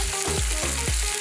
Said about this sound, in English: Now we're sauteing some artichoke here.